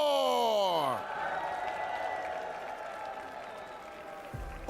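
Crowd applause and cheering at the EWC 2025 Tekken 8 grand finals for champion Ulsan, swelling loud after a fading voice and then holding as a steady roar of clapping and shouts.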